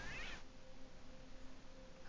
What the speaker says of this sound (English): So I'm going to scare the doggy off and get the cat out of the tree.